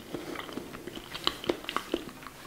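Close, quiet chewing of a squid salad with mayonnaise dressing, a short run of soft crunchy bites at an irregular rhythm, with no talking.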